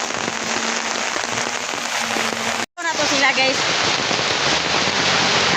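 Heavy rain pours steadily on a rural hillside farm, a dense constant hiss with a brief dropout midway, while someone talks briefly over it.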